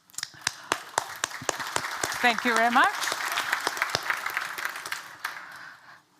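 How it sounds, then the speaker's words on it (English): Conference audience at a network operators' meeting applauding a speaker with sparse, individual claps that swell into a fuller patter; a voice speaks briefly in the middle. "So give her a warm applause."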